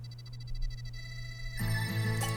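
A buzzy, wavering synth tone hums steadily, then a brighter, louder warbling layer jumps in partway through, with no voices.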